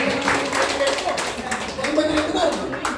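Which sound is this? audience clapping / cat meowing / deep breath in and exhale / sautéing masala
audience clapping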